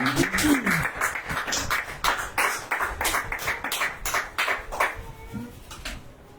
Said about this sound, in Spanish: Denle esta fuerte el aplauso a Jehová.